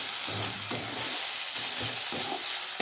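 Fresh, tender greens (shaak) stir-fry in a pan, giving a continuous close hissing sizzle broken by periodic scraping stirs and soft clanks, with no voices.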